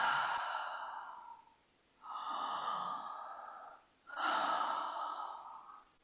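Slow, deep breaths during a guided meditation: three long, soft exhalations, each a breathy sigh lasting a second or more, separated by brief quiet pauses, close and clear with no talking.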